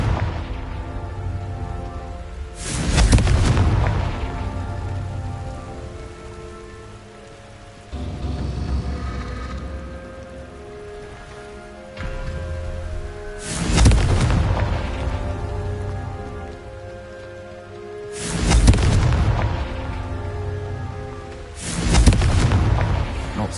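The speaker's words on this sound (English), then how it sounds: "Confringo." Confringo fire spell explosions in Hogwarts Legacy, heard as four loud booming blasts spaced a few seconds apart over a steady game music and ambience bed, each burst rumbling and then fading.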